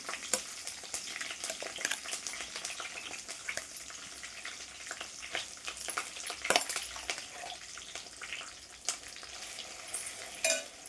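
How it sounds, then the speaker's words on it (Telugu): Ground spice paste frying in a tempering of oil and curry leaves, a continuous close sizzle with scraping stirring strokes and occasional louder crackles, no voices. "ఇప్పుడు మనం ఈ పేస్ట్ మొత్తం పొడి అయ్యేంత వరకు వేపుకోవాలి"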